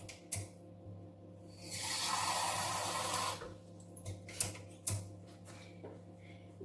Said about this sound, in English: I'm going to add a little water in it as well